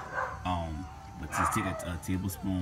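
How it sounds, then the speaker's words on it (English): A dog barks and yips repeatedly in the background, several sharp bursts spread across the moment, while a person talks in the foreground about mixing liquid fertilizer for citrus trees. "This dog always bark every time I do a video."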